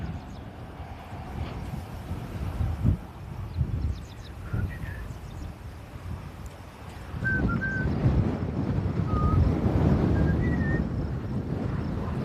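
Wind blowing outdoors along a roadside during a hitchhiking trip, a rough, gusty rush buffeting the microphone that grows stronger in the second half, with faint chirps of distant birds and no talk.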